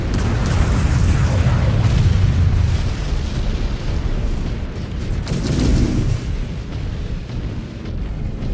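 A giant battle mech explodes in Mechwarrior 5: Clans with a loud, broad booming burst that surges early, rumbles on, then flares again midway before a sustained roaring tail.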